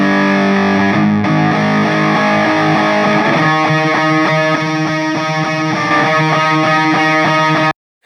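A crunchy, distorted electric guitar recording plays loud and steady, with thick sustained chords giving way to a choppier rhythmic pattern before cutting off abruptly at the end.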